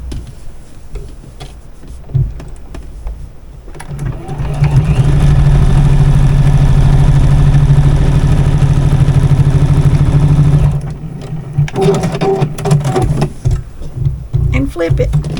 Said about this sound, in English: Let's sew this piece right down through here.